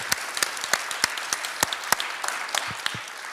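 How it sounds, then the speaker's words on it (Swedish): Scattered applause from a modest audience thanking event organizers at the close of a Swedish programme, individual sharp claps standing out over a soft bed of clapping, moderately near. "jag tycker de förtjänar en applåd för det"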